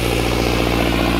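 A loud, steady tractor engine idles close by with a low rhythmic chugging throb, no voices.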